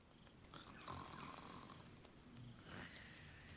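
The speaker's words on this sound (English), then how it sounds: "Who's snoring?" Snoring from a character in the video game Baldur's Gate 3, a slow, faint rasping breath that rises and falls twice over a quiet game ambience.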